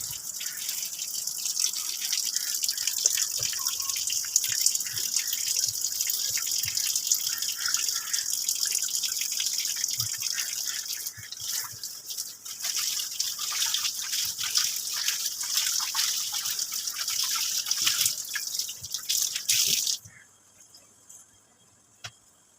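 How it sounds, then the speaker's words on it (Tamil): A cleaning cloth is rinsed under a running kitchen tap, with a steady hiss of water splashing and dripping, plus intermittent wet squelches and clinks close by, before the flow stops abruptly near the end. "இப்போ இந்த தொடச்ச கிளாத்தை டேப்பில் காட்டி நல்லா அலசிக்கிட்டேன்."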